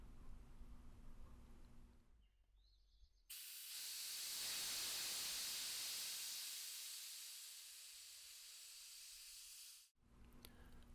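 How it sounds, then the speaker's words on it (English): Nitrogen rushes out through an opened isolation valve in a loud, steady hiss lasting several seconds, swelling then slowly fading before it cuts off abruptly. "Disconnect the nitrogen tank and open the isolation valve to release the nitrogen."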